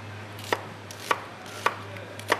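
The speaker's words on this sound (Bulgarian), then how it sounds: "нарязваме лука на едри парчета" A knife chops an onion into large pieces on a cutting board, four sharp, evenly spaced thuds about half a second apart over a faint steady hum.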